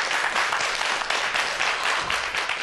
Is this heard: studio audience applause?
yes